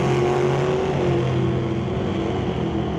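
A Morin Motorsports dragster idles and revs loudly in the lane at a drag race, a continuous deep engine rumble with steady harmonic drone over about three seconds.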